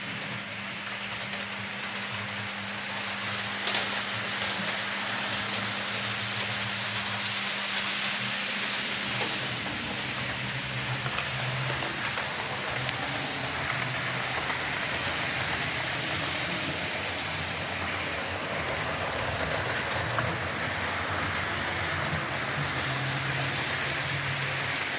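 A Lima model train fitted with a replacement motor runs slowly and steadily, giving a continuous low mechanical whir and rumble throughout with no talking.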